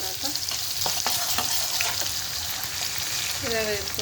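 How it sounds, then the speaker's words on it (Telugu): Onions fry in hot oil in a pan for a beans, carrot and potato gravy curry, a steady close sizzle broken by scraping stirs from a spoon, while a voice talks faintly underneath. "అందులో ఆనియన్ వేసుకున్నాను."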